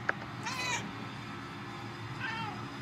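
A cat meows twice in the video game Murdered Soul Suspect, two short separate calls, fairly clear over a low game background.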